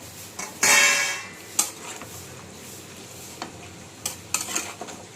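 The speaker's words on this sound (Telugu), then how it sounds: "ఇప్పుడు ఇందులో వేసేసేయండి ఫిష్ ముక్కలు" Fish pieces dropped into a pan and stirred with a utensil: a scraping, sizzling rush near the start, then scattered clinks and scrapes of metal against the pan, close and with no speech.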